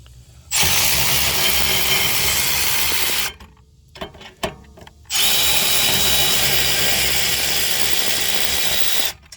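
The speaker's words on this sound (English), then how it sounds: "Then you can put it to the power ratchet." Loud whirring power ratchet runs for a few seconds loosening a bolt on a 2020 Honda Accord rear brake, stops with some clanking, then whirs again for several more seconds, close up.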